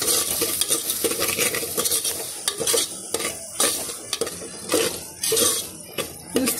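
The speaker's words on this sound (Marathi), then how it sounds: "चांगलं हलवून घ्यायचं त्याला परत." Potatoes and spices being stirred in a pan for khichadi, with repeated scraping strokes of a utensil over a steady sizzle, close and fairly loud, no voices.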